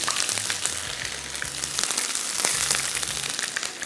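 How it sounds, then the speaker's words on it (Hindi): Ginger and garlic fry lightly in a pan with a bright, steady sizzle and crackle, close and continuous, while a spoon scrapes and stirs now and then in the low background. "और इसको हम थोड़ा सा करेंगे फ्राई हल्का सा"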